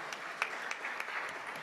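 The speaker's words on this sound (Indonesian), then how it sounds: "Tepuk tangan lagi untuk Ditjen Bina Pemerintahan Desa." Faint, distant applause from an audience at a national coordination meeting on village government, scattered claps over a soft crowd wash, quiet throughout.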